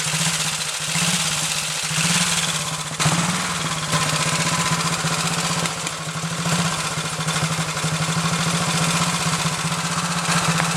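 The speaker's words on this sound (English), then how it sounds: "especially right now in the first few minutes of the engine having run since I rebuilt it" A 1929 AJS 500 motorcycle engine runs just after a rebuild, a steady, close, throbbing beat that holds an even pace throughout, with no voices over it.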